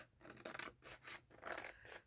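Scissors snip paper for a small handmade junk journal in a craft session, giving a run of close, crisp cuts in irregular bursts with no talking.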